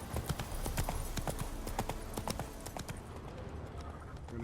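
Roach, Geralt's horse in The Witcher 3, trots along a trail with a steady, close clip-clop of hooves that continues without pause throughout.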